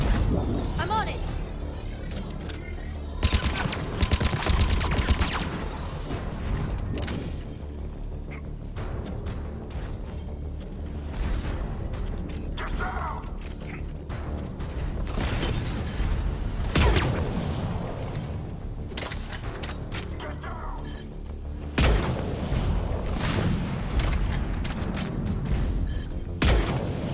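Repeated gunfire and heavy booms from combat in Mass Effect 3 on Insanity difficulty, loud and sustained, with sharp shots scattered among explosions and voices talking over the fighting.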